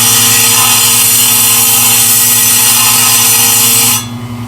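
A Highland Park SM1 shaping machine grinds and trims stone with a loud, steady high-pitched whine and underlying motor hum, close up, cutting off sharply near the end to a quieter hum, no voices.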